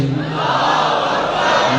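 Large religious gathering roars a sustained collective chant in answer to a Naara-e-Takbeer slogan, loud and dense, a continuous wall of voices.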